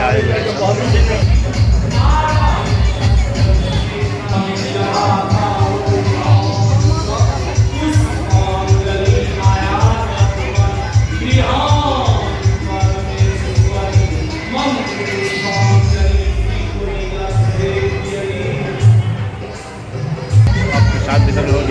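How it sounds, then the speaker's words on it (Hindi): A dense crowd murmurs and shuffles in a temple courtyard ahead of the evening aarti darshan, a steady babble of many voices with low rumbling underneath throughout. "देखिए आज कितनी भीड़ है, लगन है अभी दर्शन करने के लिए आए हुए हैं।"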